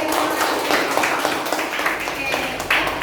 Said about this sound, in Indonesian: semuanya tepuk tangan untuk hari ini